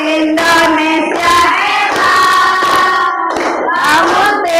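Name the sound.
children clapping along to a song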